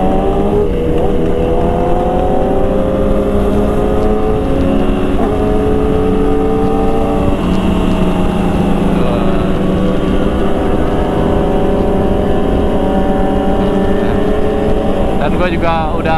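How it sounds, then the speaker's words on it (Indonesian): An MV Agusta motorcycle engine drones loudly and steadily, its pitch rising and falling as the throttle is worked, with wind noise throughout. "Makanya kadang-kadang agak sedikit geber ataupun ya agak sedikit narik gas"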